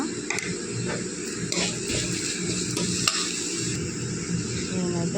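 Small-leaf amaranth greens tossed into onions frying with turmeric in a pan, a steady close sizzle with intermittent stirring scrapes and light utensil taps throughout.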